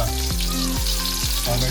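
Onion frying in hot oil, a loud dense sizzle close by with a few rhythmic stirring knocks at steady intervals, no speech heard.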